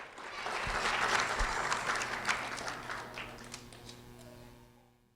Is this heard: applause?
yes